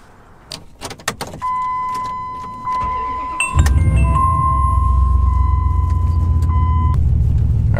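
A truck starts up after door and key sounds: a steady chime tone runs for a few seconds, then the engine catches and settles into a loud, continuous idle rumble close by.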